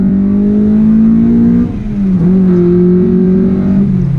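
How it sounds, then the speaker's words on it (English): A Honda CL1 Accord Euro R's 300hp VTEC engine revs hard and close while driving, its pitch climbing, dipping briefly at a gear change, then climbing again. "It is a very responsive and extremely powerful engine."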